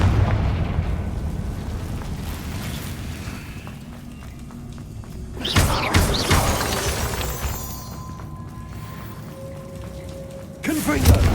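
Fiery blasting spell bursts in the Hogwarts Legacy video game, with one loud explosive burst midway and another near the end over low game ambience and faint music.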